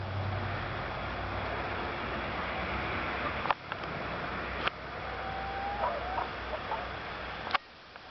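Live backyard chickens cluck faintly under a steady broadband hiss, likely from a fire, with a few sharp knocks and clicks breaking through at intervals.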